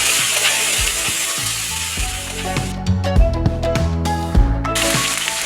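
Shrimp sizzle loudly in a hot pan of olive oil and butter, a steady dense frying hiss with sharp crackles and pops as the pieces hit the fat, close and continuous without any talking.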